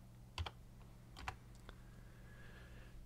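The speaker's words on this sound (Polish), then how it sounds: "wpisujemy interia" Typing on a computer keyboard while entering a site name into the Firefox browser produces a few quiet, scattered keystrokes and clicks in a hushed room, with brief pauses between presses.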